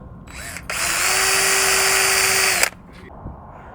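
A power drill whines loudly for about two seconds, close by, with its pitch holding steady as the bit bores in, then cuts off.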